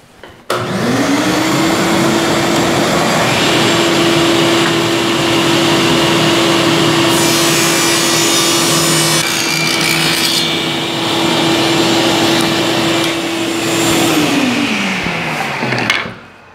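A power saw blade hums steadily at a constant pitch for a long stretch as it cuts wooden block inserts, loud and close, with roughness and brief surges over the tone before it spins down at the end.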